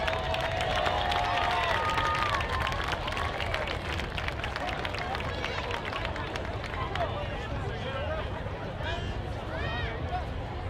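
A crowd in the stands at a high school football game between Santa Paula and Fillmore applauds and cheers in a dense, steady roar, with voices and whistles mixed through it.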